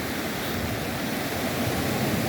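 Broadband rushing surf from ocean waves on the beach at Horseshoe Bay, Bermuda, a steady close wash with no voices.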